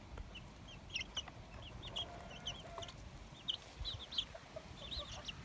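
Several İspenç chickens cluck softly and intermittently nearby over a steady low background hum, with no talking.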